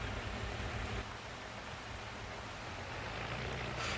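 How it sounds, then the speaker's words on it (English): Steady rain falling in a farming simulation game, a soft, even hiss of broadband noise with no voices, continuous and fairly faint throughout. "And of course it started raining now."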